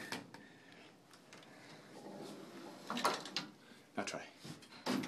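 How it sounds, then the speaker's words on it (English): An old, original elevator's door is pushed shut by hand, giving a few sharp clunks and rattling knocks, the loudest near the end, over a quiet room tone with low voices. "Maybe this door isn't shut all the way."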